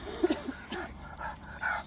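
Dogs outdoors give a few short yips and barks, fairly faint, with soft whimpering tones over quiet background noise.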